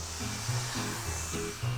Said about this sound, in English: 46-year-old full-time hairdresser Claire uses her professional hairdryer at work and at home.